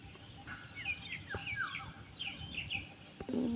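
A yellow-and-black bird in a village setting gives a series of faint, repeated chirping calls at a distance, with a louder thump near the end.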